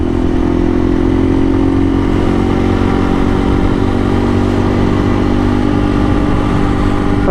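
Motorcycle cruising on a road in the morning, a loud, steady close-up engine drone with wind rush and no talk.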